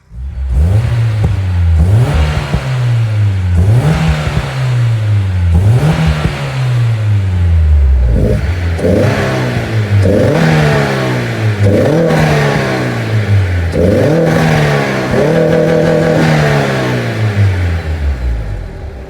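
A Honda S2000 engine revs repeatedly in a steady rhythm of rising and falling sweeps, loud and close, with no talking over it.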